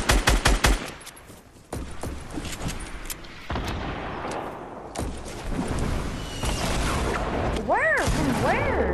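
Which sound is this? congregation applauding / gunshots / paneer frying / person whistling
gunshots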